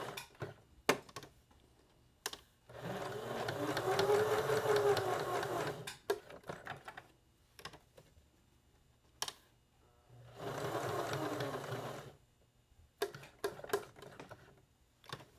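A sewing machine runs in two sustained bursts as it stitches around a fabric Christmas light-bulb ornament, with scattered clicks and taps from handling the fabric before, between and after the runs.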